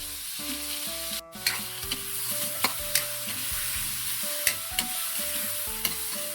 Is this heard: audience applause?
no